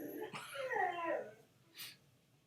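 A dog whimpers and yips, sliding whiny cries in a close burst followed by a short sharp yip, then quiet.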